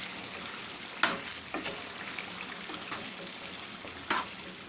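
Green chili and coriander paste being mixed into chicken frying in a pan for haryali chicken: a soft, steady sizzle with a few sharp spoon scrapes and clinks against the pan, close up, no talking.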